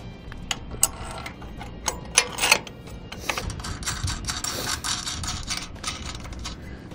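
A nut is threaded by hand onto a bolt of a Dutton-Lainson boat trailer jack, giving close, quiet metallic clicks and light ratcheting scrapes in an irregular run.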